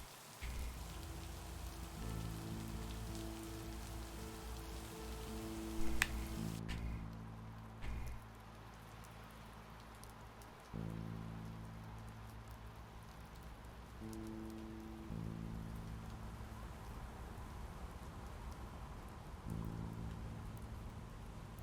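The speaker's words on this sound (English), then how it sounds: "the rain is loud sometimes" Steady rain patters on a surface nearby in a continuous, moderately loud wash, with low sustained tones humming underneath.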